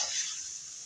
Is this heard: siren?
no